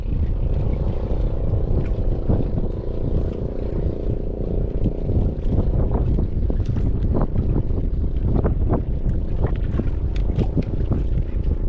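Strong wind buffets the microphone on a boat, a steady low roar with gusty bursts and water slapping throughout, no voices.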